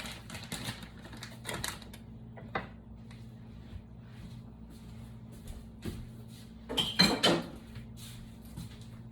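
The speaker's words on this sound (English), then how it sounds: "I'm gonna go ahead and mix this up some more." Veggie pizza ingredients are stirred in a bowl, giving faint, scattered clinks and scrapes, with a short cluster of louder clatter near the end in a quiet kitchen.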